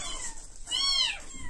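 Week-old orphaned kittens give a single clear, rising-and-falling meow, close and fairly loud, over a soft background hiss.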